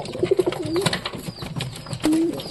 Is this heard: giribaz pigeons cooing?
yes